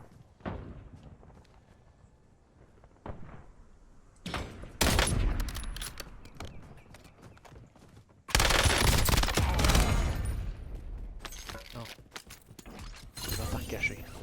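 Bursts of automatic gunfire and scattered shots crackle through a Warzone battle royale match, with loud clustered volleys between quieter stretches and footsteps. A voice talks underneath.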